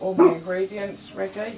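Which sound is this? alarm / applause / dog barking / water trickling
dog barking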